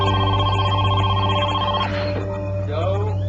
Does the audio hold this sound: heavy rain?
no